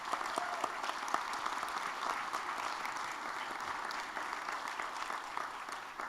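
A room of people applauding county staff at a county executive and council swearing-in ceremony, steady mid-level clapping throughout, somewhat distant and even, with no talk over it.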